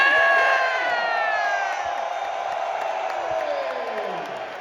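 A large arena crowd in Singapore roars and whoops at fighter introductions, a sustained wall of cheering with scattered shouts that swells and then slowly eases.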